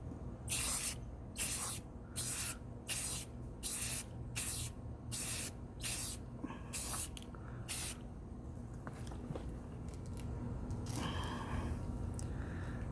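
An aerosol spray can hisses in about ten short, even bursts while a third coat of paint goes onto car side mirror covers, close and loud, followed by quieter handling noise.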